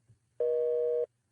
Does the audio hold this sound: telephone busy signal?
yes